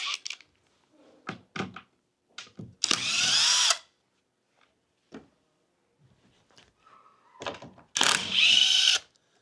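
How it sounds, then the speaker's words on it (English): Short bursts of a power drill whirring in reverse, unscrewing a king-size bed frame, separated by clunks and small knocks, with a couple of longer loud drill runs close by. "Put your drill in reverse."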